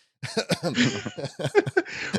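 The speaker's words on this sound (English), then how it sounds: "I have this dry cough. It just won't leave." A run of short, dry coughs in quick succession, close and fairly loud, with brief gaps between the bursts.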